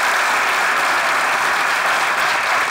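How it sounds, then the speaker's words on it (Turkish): A studio audience applauds after a comedy sketch on a Turkish TV show, a dense, steady wash of clapping that holds at full loudness throughout, with no voices over it. "Vallahi alkışlar bu skecin yazarlarına gelsin."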